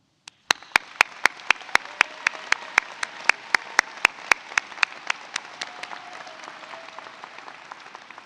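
A single sharp clap opens, then a run of crisp, evenly spaced claps rings out clearly over a swelling, sustained applause from the audience at a law school commencement ceremony, steady and moderately loud before thinning toward the end.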